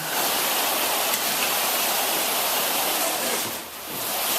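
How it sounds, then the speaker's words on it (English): Wet concrete pouring steadily for a new basement floor, a loud continuous wash of rushing, gritty noise like heavy water flow, with no voices. "today we're pouring our concrete floor. Concrete's coming in"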